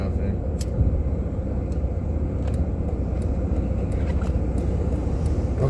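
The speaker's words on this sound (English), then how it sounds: "traffic" Road traffic rumbles steadily in the background, a dense low drone with occasional faint clicks and swishes of passing vehicles, continuous and moderately distant.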